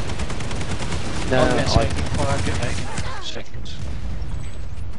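Gunfire and explosions from the video game Planetside 2, rapid shots and bursts with a sharp boom in the middle, heard under a player's excited speech.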